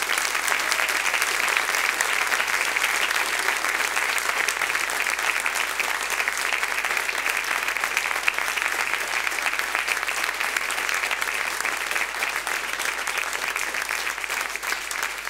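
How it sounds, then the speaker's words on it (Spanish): A standing church congregation in Santiago, Chile applauds in a dense, sustained wash of clapping that holds steady and loud for the whole span, with a faint low hum underneath. "Denle un aplauso al Señor para que se alegre."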